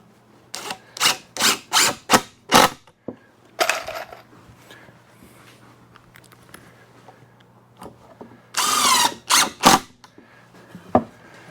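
A power drill fastens a backing board for an entrance step, giving bursts of short whirring runs in quick succession, a quieter stretch of faint handling noise, then another loud cluster of drill bursts, all close by.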